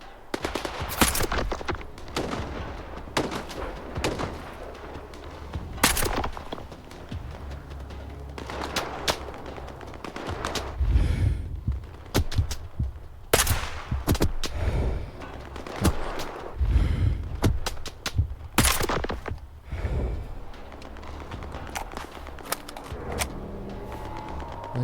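Gunfire in STALKER 2: Heart of Chornobyl, with repeated sharp bursts and single shots, some near and loud, others farther off, scattered irregularly over a steady background of combat noise.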